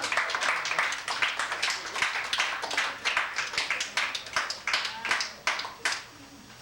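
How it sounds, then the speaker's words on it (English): An audience at a live show in a small cafe claps steadily, a dense run of fairly close hand claps that rises and dips in short swells for several seconds. "Thank you for your applause"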